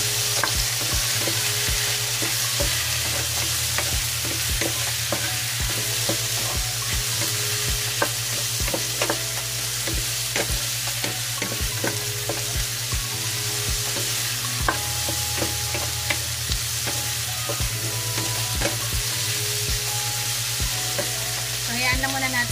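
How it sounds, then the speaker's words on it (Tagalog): Chopped tomatoes are stirred into upo (bottle gourd) in a frying pan, with a steady sizzle running throughout and frequent scraping, clacking utensil strokes at close range and no talking. "Kaya nilagay ko na yung ating kamatis."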